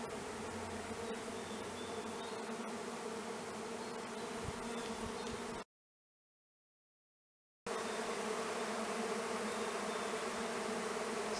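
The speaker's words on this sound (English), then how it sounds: "Just an enormous cloud of bees." A dense, steady drone of a swarm of honey bees buzzing together outdoors around a tupelo tree, loud and continuous, with a short gap of silence before the hum resumes.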